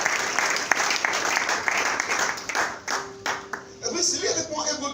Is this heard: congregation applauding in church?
yes